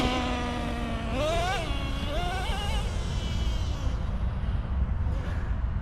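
A Traxxas Nitro Rustler 2.5 nitro RC truck with sand paddles, running 33% nitro fuel, revs and drifts across beach sand, its high buzzing engine rising and falling in pitch over steady broadband noise.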